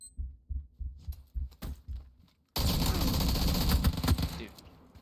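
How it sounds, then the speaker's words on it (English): Bursts of automatic gunfire in the battle royale game PUBG, a loud dense barrage after a run of low rhythmic thumps, with players talking over it. "Guy in the building that we were shooting at."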